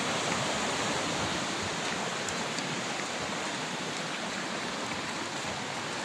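A flowing stream on the trail to Bungan Bungan cold spring in Laserna rushes with a steady, loud, broadband roar, continuous and close, with no talking over it.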